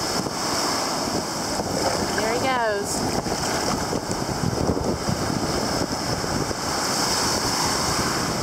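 Steady wash of ocean surf along a beach shaded by palm trees, a broad continuous roar with wind buffeting the microphone, and a brief tonal call rising over it partway through.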